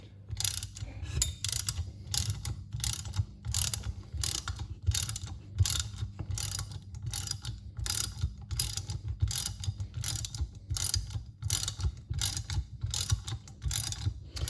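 A ratchet cranks steadily to compress a Mustang brake caliper piston, with a 13 mm wrench holding the nut; rapid, even clicking repeats for the whole stretch over a low mechanical drone, close and fairly loud.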